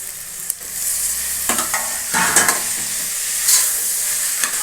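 Tomatoes and onions sauté in a pan for chicken biryani, a steady close sizzle broken by scraping stirs and clinks of the spoon.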